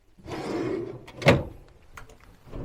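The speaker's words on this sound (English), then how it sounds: "Some sort of drawer." A drawer in a palace hotel room in Bruges slides open, giving a broad scraping rumble followed by a sharp knock near the middle. A softer rattle follows, close and alone with no talk.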